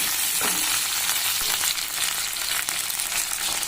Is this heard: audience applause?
no